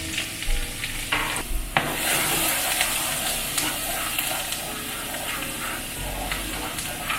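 Chopped garlic sizzles in a pan over low heat, a steady, close frying hiss with occasional stirring scrapes and clinks of a utensil, no talking.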